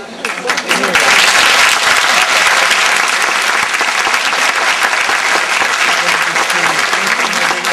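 Audience at a folk festival in Tulcea county applauding, dense sustained clapping from a large crowd that swells quickly and then slowly tapers, with a voice talking over it.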